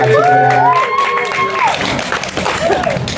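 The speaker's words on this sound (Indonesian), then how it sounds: "Beri tepuk tangan untuk Mas Jero Boy." An audience at a horror film press event cheers and claps, with sustained shouts and whoops over clapping that carries on under voices.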